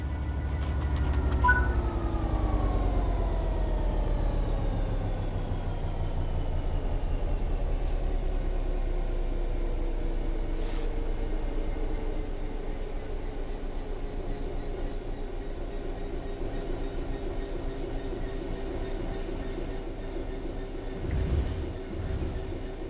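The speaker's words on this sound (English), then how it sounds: "The train will then coast on level ground, and the train will only slow down very gradually." A train in Train Sim World 3 coasts on level ground with the throttle at zero, a steady rolling rumble and slowly falling whine, with occasional clanks and brief hisses, loud and continuous.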